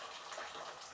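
Boiling water from a kettle pours steadily into a pan holding a wrapped haggis, a continuous close gushing splash that fills the moment without talk.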